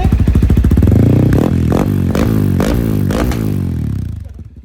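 A rebuilt Suzuki Raider/Sniper 230 motorcycle engine revs loudly and close up, rising and falling in several sharp throttle blips over a rough, rattling idle, running without a pipe gasket, then settling as the sound fades at the end.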